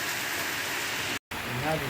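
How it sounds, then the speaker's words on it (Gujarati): Rain falls steadily outdoors during the monsoon, a dense, even hiss that fills the whole span, broken once by a brief dropout in the middle. "બાયણે વરસતો વરસાદ"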